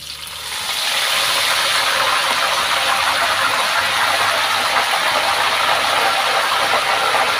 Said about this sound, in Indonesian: Selanjutnya daun jeruk kita goreng